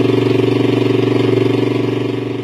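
Engine of a custom-built 2003 Honda dirt bike running steadily, a loud, close, rhythmic idle-like putter with pulsing beats that holds for a few seconds and fades slightly at the end, no talk.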